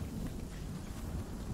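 A thunderstorm in the Fortnite video game gives a steady, dense wash of rain and low rumbling thunder, filling the short moment evenly at moderate loudness with no voices.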